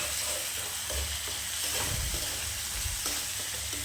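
Fenugreek greens sautéed in oil in a pan, a close, steady sizzle with rhythmic scraping and turning of the leaves throughout.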